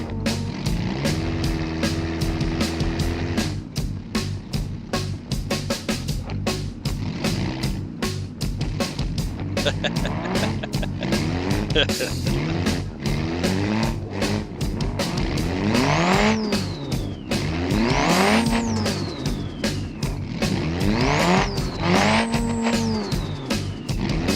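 An off-road car crawls over a large rock while its engine revs repeatedly in rising and falling surges, with tires spinning and slipping for traction and steady rumbling underneath, loud and close throughout.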